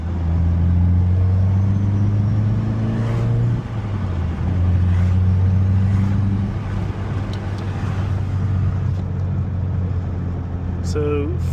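A 2022 or newer Subaru WRX fitted with a Perrin low-profile intake pulls out of a neighborhood. Its engine drones steady and close from inside the cabin, pitch rising and falling with throttle, while a person talks over it.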